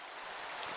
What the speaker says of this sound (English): Rain's loud.